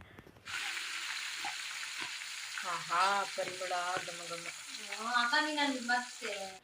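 Butter melts into ghee with chillies, drumstick leaves, salt and chilli powder, giving a soft, steady sizzle and bubbling in the pan. Faint stirring scrapes and murmuring voices sit underneath.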